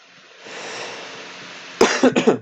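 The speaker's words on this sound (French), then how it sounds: "Je mets sur pause un instant pour tousser parce que je m'étouffe" A few sharp, close coughs in quick succession after a stretch of low background noise, loud and abrupt.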